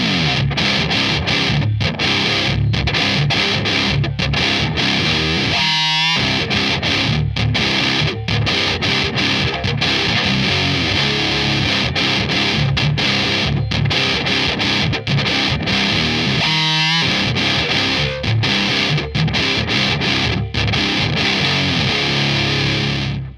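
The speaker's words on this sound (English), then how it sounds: "I think the Mega Distortion is one of the better distortion pedals that Boss have ever brought out" An electric guitar played through a Boss Mega Distortion, a high-gain distortion pedal, gives a loud, dense, saturated tone that runs continuously, with brief dips near the six- and seventeen-second marks.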